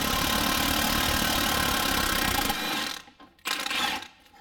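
Impact wrench with a 21 mm socket blasting a front lower control arm bolt off a Nissan Rogue in a repair shop, a loud continuous mechanical whir and rattle for about three seconds, then a short burst after a brief stop.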